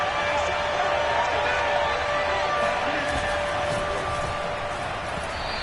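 Dense football stadium crowd noise swelling before a big third down, a steady loud roar of cheering voices filling the whole clip with no break.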